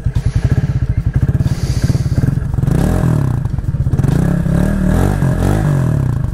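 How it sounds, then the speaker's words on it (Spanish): An Italika 250Z motorcycle engine cranks with rapid pulsing turns, then catches and settles into a loud, deep, steady idle with a low throaty rumble and slight revving, close by. "Vamos a darle cuerda para conocer el sonido de esta 250Z."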